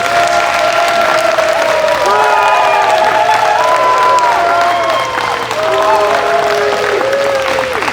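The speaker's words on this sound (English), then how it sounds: "Audience, let's applaud our candidates." An audience at a candidate forum in Tuba City applauds steadily, a dense wash of clapping from a crowd that holds at the same level throughout.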